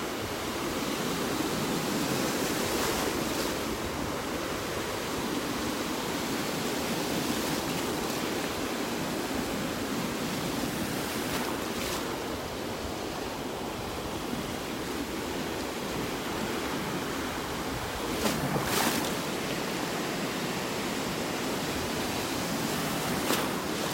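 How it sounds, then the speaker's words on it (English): Ocean surf breaks along a beach in North Naples, Florida, a continuous broad wash of rolling waves with occasional louder surges, fairly soft and with no voices. "Getting knocked around by the waves."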